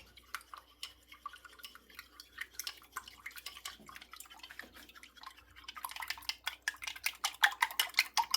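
Cooking oil is poured into a pan for a chive pancake, with faint, soft dripping and liquid sounds close by that grow into a denser run of crackling taps toward the end.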